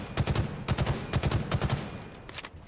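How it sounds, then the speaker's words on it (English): Halo Infinite Battle Rifle firing in a modded Halo 3 game: repeated rapid three-round bursts, sharp and loud, several in a row, with the last shots trailing off quieter. "Halo Infinite Battle Rifle."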